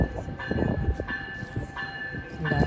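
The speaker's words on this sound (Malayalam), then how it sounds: "8:21 തന്നെ സ്ട്രാറ്റ്ഫോർഡ് സ്റ്റേഷനിൽ ട്രെയിൻ എത്തി." A large passenger train pulls into Stratford railway station in Canada, a close rumble with rhythmic clanks and a sustained high tone from the wheels or brakes.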